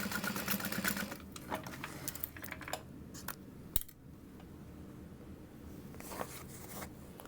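A sewing machine runs in quick bursts of stitching as it sews a dart on a fabric wristlet, a busy mechanical patter close by with brief pauses and a single sharp click partway through.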